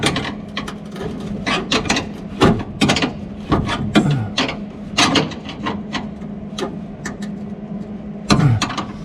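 A tool tightens a steering column collar during car floor and firewall fabrication, giving a run of sharp ratcheting clicks and wooden knocks in irregular bursts, close and fairly loud, with no talking.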